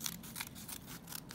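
Scissors snipping a paper Christmas craft, several quick, close cuts in a rapid, uneven rhythm, quiet and with no talking.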